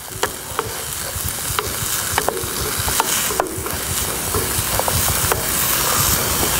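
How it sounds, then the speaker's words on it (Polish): Chanterelle mushroom sauce simmering on an outdoor garden grill, giving a steady close sizzle and bubbling hiss with scattered sharp pops and crackles throughout. "to się około 10 minut musi poddusić"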